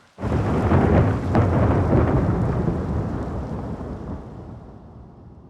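A loud roll of thunder bursts in and rumbles on, slowly fading, over a steady wash of heavy rain.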